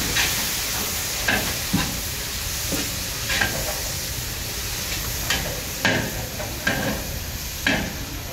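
Onions and green chillies fry in a pan for Telangana-style chicken, a steady close sizzle broken by occasional sharper crackles and soft stirring scrapes, with no voices.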